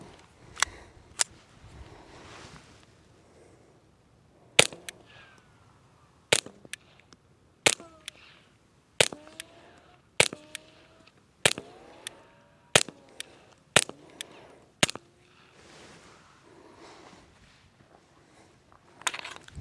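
Repeated gunshots from target practice at a shooting range, a dozen or so sharp loud cracks spaced a second or two apart with quieter pauses between, no talking.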